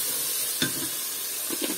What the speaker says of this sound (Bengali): দিয়ে এটা মশলাটা ভালোভাবে ভাজতে হবে